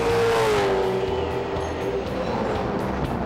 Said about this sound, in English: Jason Plato and the second Holden Racing Team Commodore up in contention